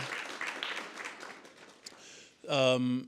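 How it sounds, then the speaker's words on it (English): An audience at a Rep Matters breakfast club event claps briefly for the guests, the applause fading under a voice before a loud, tonal sound cuts in near the end. "You get a round of applause for the guests"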